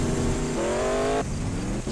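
A Stingray car in the Roblox game Mad City races along at speed, its engine tone holding steady and then shifting as it accelerates, loud and continuous with no talking.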